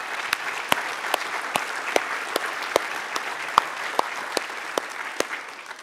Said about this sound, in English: So how about one more round of applause to these legacy people?